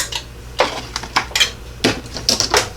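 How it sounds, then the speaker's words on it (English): A metal spatula scrapes and lifts a die-cut card piece from a cutting plate, giving several sharp clinks and scraping taps in an irregular rhythm, close and fairly loud with no talking. "I'm going to use my spatula, and I'm going to go up under the edge and just lift that off."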